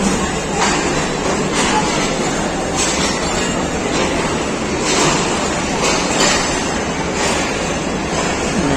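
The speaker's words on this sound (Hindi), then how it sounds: "रैक का अराइवल भी कैप्चर हो गया फरीद एक्सप्रेस का।" A Farid Express train rake pulls into platform 4 at a Pakistan Railways station, a steady, loud rumble of rolling coaches that fills the whole stretch without pause.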